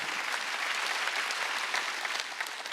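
A church congregation at a Wednesday worship service applauds in a steady, moderately loud burst of many hands clapping, with no voice over it until a short rise at the end.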